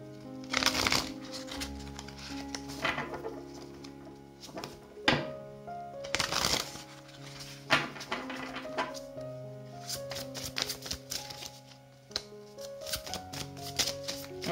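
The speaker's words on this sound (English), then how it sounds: "So I shuffle the cards, whatever comes up." Tarot cards being shuffled by hand in short, crisp riffling bursts, separated by light taps and pauses, heard close and fairly soft over faint background music.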